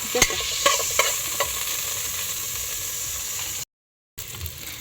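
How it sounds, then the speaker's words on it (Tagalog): Ginger sautés in a pan as the start of a coconut-milk snail stew, a close, steady sizzle and crackle with a few stirring clicks near the start, briefly cut off near the end, with no talking. "Bango na luya pag ginigisahan."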